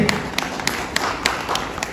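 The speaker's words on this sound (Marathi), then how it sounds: "त्या शेवटच्या रांगेत बसलेल्या जोरदार टाळ्या द्या" Scattered clapping from an audience at a community matchmaking gathering, sparse irregular claps of moderate loudness over a roomy background murmur.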